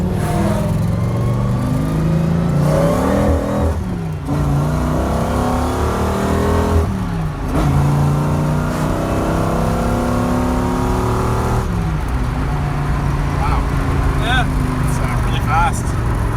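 A Mercury Capri fitted with a 6.8L V10 revs hard on a ride-along, the engine note climbing repeatedly and dropping off between pulls across several seconds, with people talking inside the car.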